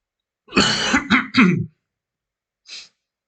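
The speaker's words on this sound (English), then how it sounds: "Sorry for the coughing." A gamer clears his throat and coughs in a short burst of three rough hacks, followed after a pause by one fainter cough, close to the microphone with no talking.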